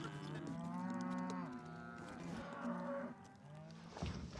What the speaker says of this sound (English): Got all the cows through the gate.